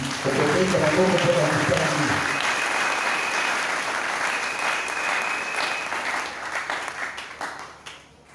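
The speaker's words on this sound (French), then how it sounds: "Abada, tu vas acclamer pour la lecture" A church congregation at an assembly of saints in Kisanga breaks into loud, sustained applause, a dense wash of clapping that swells early and slowly fades away.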